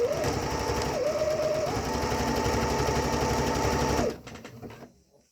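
Sewing machine running steadily while stitching fabric for handmade underwear, a continuous whirring motor hum for about four seconds with a brief pitch dip, then stopping and fading out.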